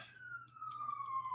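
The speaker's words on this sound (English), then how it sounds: "So I'm just letting a siren go by." A downtown emergency vehicle siren wails as it passes, one long steady tone sliding slowly downward, faint and distant over quiet background.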